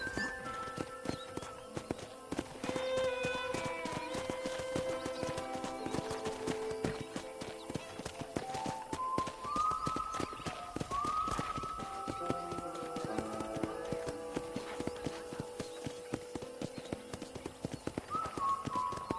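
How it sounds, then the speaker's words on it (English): Horse hooves clip-clop steadily in the Red Dead Redemption video game, a close rhythmic trot over soft game music. "I picked out a fine horse for you."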